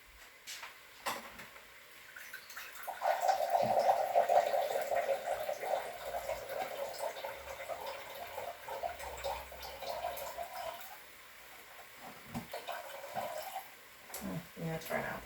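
Tap water runs steadily into a glass or container in a home kitchen, a continuous mid-level rush lasting most of the stretch, with small clinks and handling noises and some background sounds around it.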